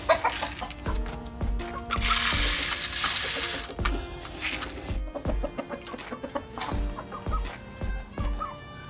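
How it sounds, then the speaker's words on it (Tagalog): Chickens, a white gamecock and a hen among them, cluck repeatedly at close range during feeding, with short bursts of clucking over a busy background and scattered rhythmic low thumps. "Pakain lang tayo ng manok ngayon."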